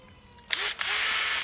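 A battery-powered drill whirs up in two close bursts, a short first spin, a brief pause, then a steady sustained run until it cuts off.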